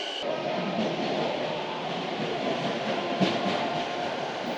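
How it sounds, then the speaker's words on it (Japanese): A Sobu Line local train enters the platform just before midnight on New Year's Eve, arriving to run back as an all-stations service; a steady, even rumble of wheels and motors fills the scene without a break, with no talking. "折り返し運転の電車が入線。"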